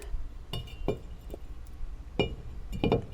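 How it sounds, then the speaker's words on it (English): Metal brake disc being fitted onto the front right suspension of a car, giving a few sharp clinks and knocks, close and fairly loud against a quiet background. "time to put the disc on."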